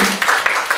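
Audience at a mental health peer-support training session clapping in a brief, loud burst of applause that lasts under a second.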